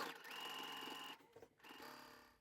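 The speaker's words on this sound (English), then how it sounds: "I'm sewing from this side because I want to see the seam allowances." A sewing machine stitches fleece fabric in two short runs of fast, even whirring, close and clear, with a brief pause and a few clicks between them.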